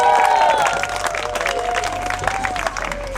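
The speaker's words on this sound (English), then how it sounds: "Let's give him a round of applause." A lecture crowd applauds and cheers as Rob Gronkowski is introduced, a steady, full roar of clapping with whistling tones running throughout.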